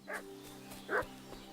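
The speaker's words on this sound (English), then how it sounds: "I hear a dog barking." Dog barking in the medieval open-world game Kingdom Come: Deliverance 2, two short barks about a second apart, moderately distant over a steady low ambient hum.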